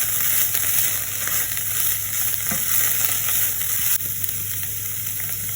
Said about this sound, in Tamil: அதையும் போட்டு வடிவாக கிளறிடுங்க